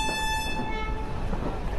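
A train departing Ludhiana station sounds a long, loud horn over the low rumble of the moving wagons, the horn tone fading as the rumble continues.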